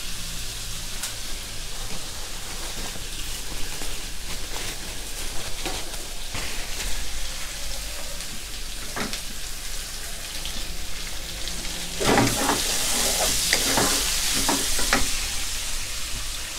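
Pork belly stir-frying in its rendered oil with Chinese cooking wine for a Sichuan mala dish, a dense continuous crackling sizzle with occasional spatula scrapes, swelling louder and more spattery near the end.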